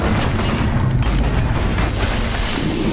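Landmine or frag grenade blasts in the survival game Dysmantle, a dense, steady low rumble of booms that fills the whole stretch without any quiet gaps.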